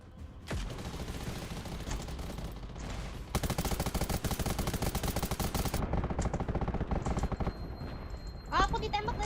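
Rapid automatic gunfire in the survival shooter Undawn during a training match, with the player being shot at from above; fast rattling bursts, intermittent at first, then a long dense volley before a pause and a final burst.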